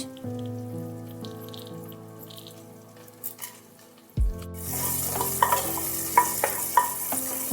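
Whole garam masala and black peppercorns drop into hot oil for a chicken stew tempering, setting off a sudden loud sizzle that keeps crackling steadily, with a few sharp spatters and stirring clinks over it.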